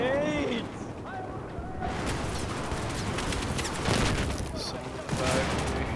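Grenade blasts and battle noise in Battlefield 4, a dense rumble of explosions and gunfire with a louder burst near the end, while players shout over the chaos.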